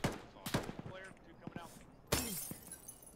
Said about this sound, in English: He's shooting. Yeah, he's shooting below us.